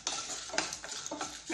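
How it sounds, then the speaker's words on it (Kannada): Byadgi dry red chillies roasting in a pan, a steady dry sizzle broken by repeated scraping stirs, close and moderately loud with no voices. "ಮೆಣಸಿನ್ಕಾಯಿ ಹುರ್ಕೊಳ್ಳೋಣ."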